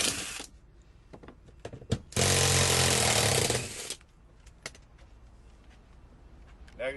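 A power tool drives out T55 Torx bolts securing the driver's seat in a 2002-2006 Ford F250, one loud rattling impact burst lasting under two seconds amid brief knocks and quieter handling noises.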